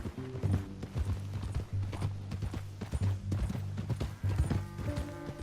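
Horse hooves clip-clop in a quick steady rhythm on hard ground in Red Dead Redemption 2, with a low musical drone underneath and scattered clatter.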